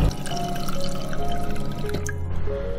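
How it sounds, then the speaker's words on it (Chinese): Purified water pours steadily into small stew pots filled with ingredients and olives for a Chaozhou-style soup, a continuous close, bubbling trickle with no talking. "最后加入适量纯净水"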